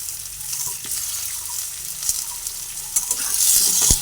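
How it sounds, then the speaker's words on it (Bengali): Potatoes frying in hot oil in a pan for a vegetarian curry with eggplant, potato and capsicum, a steady close sizzle with scraping stir strokes that grow busier toward the end. "ভালোভাবে নাড়াচাড়া করে এভাবে ওভার করে আলুগুলোকে প্রথমে ভেজে নিচ্ছি"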